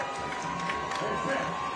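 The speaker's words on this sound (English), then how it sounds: "Bishop Gorman crowd feeling it here" Bishop Gorman fans cheering at a high school football game against St. John Bosco, a sustained crowd roar with scattered shouts, under a commentator's voice.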